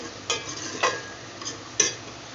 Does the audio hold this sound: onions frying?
yes